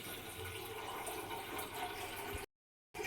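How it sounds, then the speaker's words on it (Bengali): Running water splashing steadily as a kettle is rinsed clean before making tea, a continuous close wash that stops abruptly near the end and briefly resumes. "চা করবে তাই কেতলিটা ভালো করে ধুচ্ছে"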